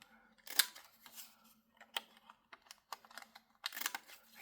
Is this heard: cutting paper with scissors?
yes